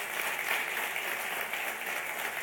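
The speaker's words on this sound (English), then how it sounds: "So a big round of applause for our chief guest." Audience applause for the chief guest at a youth forum finale in Bangladesh, a steady dense clapping from a large crowd in a hall, continuous and even throughout.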